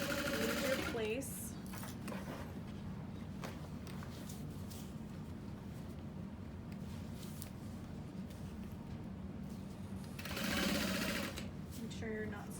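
A sewing machine stitches steadily through an Alexa bag, a continuous mechanical whir that runs almost unbroken and swells louder near the end, with a voice talking over it.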